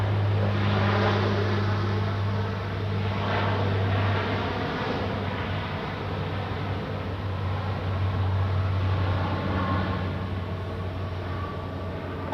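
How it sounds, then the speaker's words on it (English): A Croatia Airlines airliner on its takeoff roll at Zurich Airport, a steady loud jet roar with a deep low hum and broadband rush holding constant throughout, no voices. "takeoff for Croatia Airlines"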